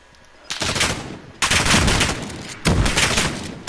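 Automatic weapon fire in Call of Duty Modern Warfare: three loud, sustained bursts of rapid shots separated by short pauses, close and up front.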